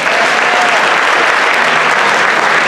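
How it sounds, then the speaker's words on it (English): Audience applause at a 5th–8th grade winter band concert, a dense, steady wash of clapping held at full strength throughout with no gaps, filling the room on its own. "Please give them a round of applause."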